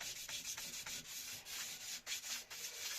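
Steady abrasive rubbing of sandpaper smoothing old paint on an aluminium part from a Honda CB250RS motorcycle, sounding as a series of close, scratchy back-and-forth strokes with short pauses between them.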